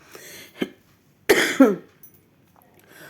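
Several close coughs from a woman with a bad cough: a couple of small throat-clearing hacks, then two strong rasping coughs in quick succession, fading into quiet breathing.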